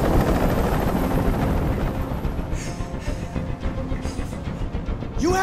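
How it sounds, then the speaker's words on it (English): Helicopter rotor chop in the video game Detroit: Become Human thumps steadily, loud and close, with a few sharper bursts and clatter near the end. "Tell that helicopter to get out of here."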